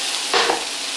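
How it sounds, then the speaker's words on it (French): Cooked ham reheating in a frying pan sizzles steadily and loudly while a utensil stirs it once with a brief scraping swish. "Alors, on brasse le tout, puis ça va réchauffer"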